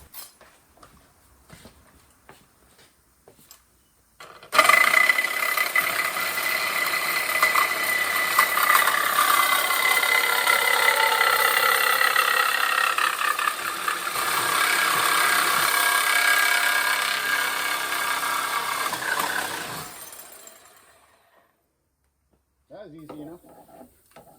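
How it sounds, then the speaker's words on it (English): A reciprocating saw chops through the steel frame outriggers of a 1956 Chevy pickup during front-end removal, a loud, steady buzzing cut lasting about fifteen seconds with a few faint clanks before and after. "I'm going to get the sawzall and chop right through these outriggers"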